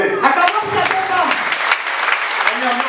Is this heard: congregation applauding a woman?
yes